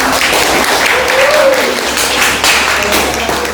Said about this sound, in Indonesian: jadi tepuk tangan dulu untuk adik-adik